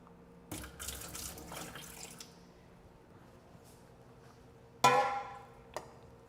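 Tap water runs into a pan to make a water bath for a passion fruit cheesecake, a steady splashing flow for about two seconds, then quiet, followed by a louder burst of pouring and a brief splash.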